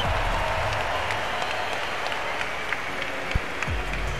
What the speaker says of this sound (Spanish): un fuerte aplauso a todos los que habéis venido a presenciar un evento como el de hoy